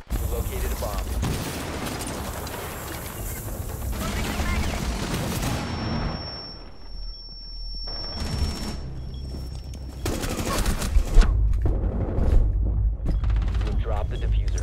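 Bursts of automatic and single-shot gunfire in the tactical shooter Rainbow Six Siege, loud and repeated, with a short lull before heavier firing resumes; players talk over the action.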